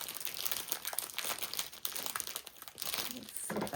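A package of vintage fabric being opened, its wrapping crinkling loudly and continuously up close, with a voice faintly present.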